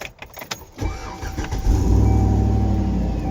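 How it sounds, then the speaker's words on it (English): The engine of a 2013 Chevrolet Tahoe police pursuit vehicle cranks and catches after an exhaust manifold leak repair, then settles into a close, steady low idle rumble after some faint clicks and rustling. "So a slight rumble from the side from this manifold, but it's running way cleaner."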